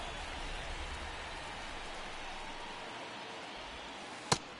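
Steady rain falling during a baseball game in MLB The Show 23, a soft, even hiss alone at low level with one short sharp crack near the end.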